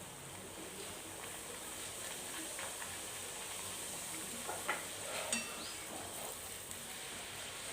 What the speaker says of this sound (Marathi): इथं मी ह्याच तेलामध्ये पुऱ्या तळून घेते